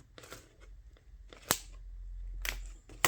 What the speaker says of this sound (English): then we can pry. You'll hear the snapping sound.